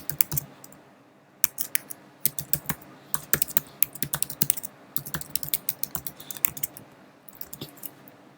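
Someone types an email address on a computer keyboard, producing quick, close, irregular key clicks in bursts with short pauses and no voice.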